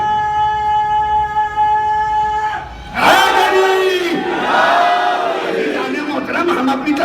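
A large crowd at a religious gathering at Karbala Kotla in Delhi bursts into a loud, unified chant after a held vocal tone, the massed voices surging and roaring close by with a few individual shouts over the top.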